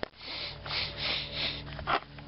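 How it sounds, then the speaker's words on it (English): Several quiet, breathy sniffs in a row at a motorcycle petcock, close by, followed by a sharper inhale near the end, with no talking. "just by going like this and sniffing it"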